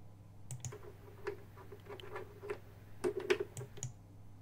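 Bobbin being set onto the winding spindle of a Kenmore sewing machine, giving small close plastic clicks and taps scattered over a few seconds, with a tighter cluster of light knocks near the end.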